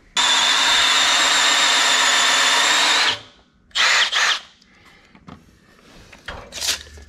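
A power drill bores holes for mounting the seat on a classic go-kart refitted with a 6.5 HP engine, making one loud continuous whir of about three seconds, followed by two short bursts and then quieter shop noise.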